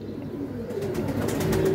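Pigeons cooing at a pigeon club loft, low soft coos repeating close by under a faint background hum, with no talk.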